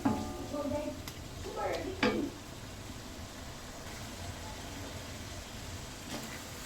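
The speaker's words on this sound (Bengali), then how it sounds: "সর্ষের তেল এরকম ভালো করে ভেজে নেবেন" Small pieces of beef frying in mustard oil for a pickle, a soft continuous sizzle with a few stirring scrapes and clinks of a pan early on, then a quieter steady hiss.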